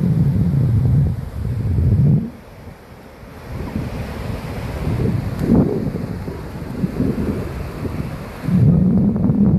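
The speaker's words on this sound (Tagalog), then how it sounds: "Daming hangin." Strong wind buffeting the microphone in heavy low rumbling gusts, easing briefly and then surging again, with no voices.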